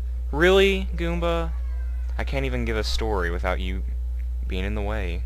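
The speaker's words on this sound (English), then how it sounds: "if you hear, like, any meowing or purring, it's probably because my cat is sitting right beside me" A pet cat sprawled on a bed beside a person meows several times in drawn-out, wavering cries while the person talks close by over a steady electrical hum.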